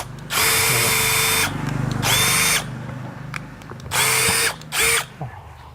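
A PUMA brushless cordless impact drill in drilling mode at high speed whirs in four loud bursts, each a high, steady motor whine with short pauses between and light handling noises.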